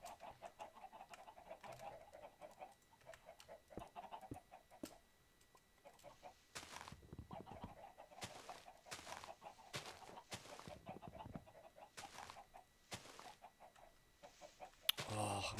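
Chicken clucking and squawking in a video game, repeated short bursts scattered through the scene, fairly faint and without talk.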